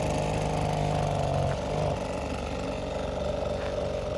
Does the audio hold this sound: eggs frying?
no